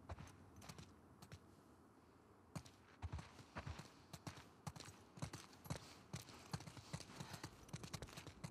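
Horse hooves clip-clop in a steady walking rhythm in The Last of Us Part II, close and crisp over a quiet ambient bed, sparse at first and then a regular series of sharp strikes.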